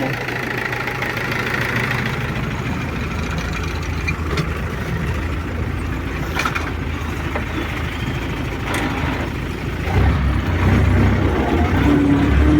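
A YUMZ 8280 tractor pulling a KRN cultivator through a cornfield for weeding runs with a loud, steady engine drone throughout. The rumble deepens and swells near the end.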